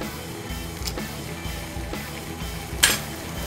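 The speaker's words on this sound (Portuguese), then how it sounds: "vou colocar então na fritura o mandiopan." Mandiopan snacks frying in hot oil in a home kitchen, a soft sizzle with light clinks and stirring knocks of a utensil against the pan, and one sharper clatter near the end.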